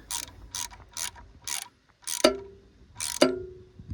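A ratchet tightens the throttle position sensor on a 1993 Cadillac Fleetwood Brougham, giving six evenly spaced, crisp clicks at close range. The last two clicks carry a brief metallic ring.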